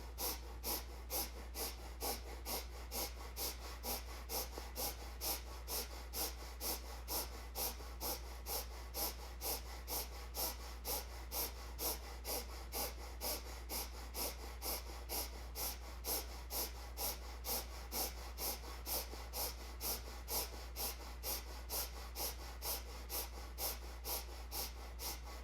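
Rapid, rhythmic breath-of-fire yoga breathing, with sharp forceful exhales pulsing steadily at about two per second, close and continuous over a low steady hum, with no talking.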